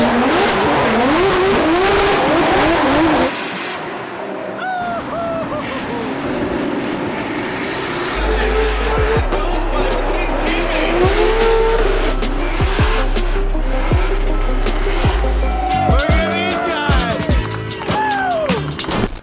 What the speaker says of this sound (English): Cut to some footage of these guys driving.